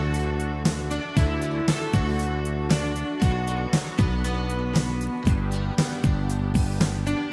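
An instrumental backing track of a song plays steadily, with a regular punchy drum beat and sustained synth and bass parts over a continuous mix.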